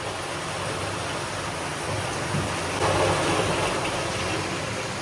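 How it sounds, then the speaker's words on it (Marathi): Heavy rain pours down outdoors in a steady broadband hiss that swells a little louder partway through. No one speaks. "मी बोललेले मस्त पाऊस पडतोय."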